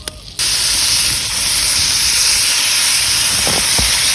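Chopped carrots, onions and celery sizzle in melted butter in a pot over a campfire, a loud steady hiss that starts abruptly after a brief quieter moment, with a few faint clicks near the end.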